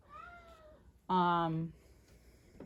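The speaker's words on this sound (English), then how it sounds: "my cat again is just a little kitty right now, and he always wants to be outside" A young male kitten indoors meows once loudly and close, a drawn-out plaintive call wanting to go outside, after a brief stretch of quieter vocal sound against a low room hum.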